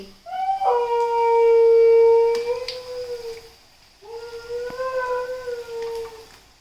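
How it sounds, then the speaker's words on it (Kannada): A dog lets out two long, drawn-out howls separated by a short breath. Both are loud, near and tonal, with the pitch wavering slightly as each one fades. "ನಾಯಿ"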